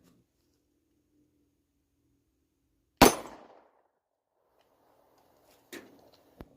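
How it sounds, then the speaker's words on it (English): A Beretta 92FS 9mm pistol fires at a close metal target: one loud sharp shot with a short ringing decay, then after a long pause two fainter shots a moment apart. "shooting a metal target so close is dangerous"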